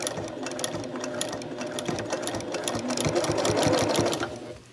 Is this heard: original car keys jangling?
no